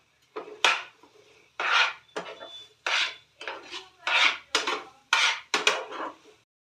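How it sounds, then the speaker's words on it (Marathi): A spoon scrapes and rasps around a pan of dry fruit, cardamom and sugar in repeated short strokes, about nine sharp gritty pushes with brief pauses between them, close and with no voices. "ड्रायफ्रूट अजून इलायची साखर टाकून त्याला चांगलं फिरवायचं।"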